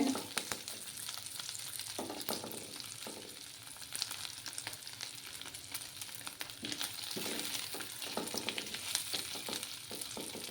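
Dry fish, potato and brinjal frying in a pan over low heat, giving a steady close sizzle with occasional stirring scrapes throughout.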